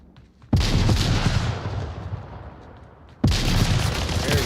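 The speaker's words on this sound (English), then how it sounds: "Very good, effective grenades." Grenade blasts and gunfire in an Onward VR competitive match: two loud broadband booms, one at the start and another about three seconds later, each followed by a long decaying rumble mixed with gunshots.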